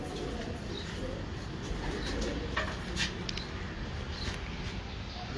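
Breeder pigeons cooing softly on a rooftop, low murmuring calls repeating over a steady background hum, with a few faint chirps and no voices.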